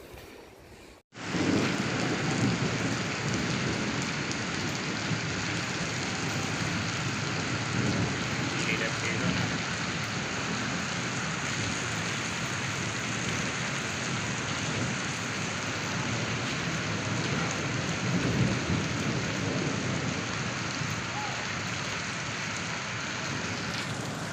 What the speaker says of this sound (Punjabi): ਤੁਸੀਂ ਦੇਖ ਸਕਦੇ ਹੋ ਜੀ ਮੀਂਹ ਹੈ ਜਿਹੜਾ ਪੂਰੇ ਜ਼ੋਰਾਂ ਨਾਲ ਪੈ ਰਿਹਾ ਹੈਗਾ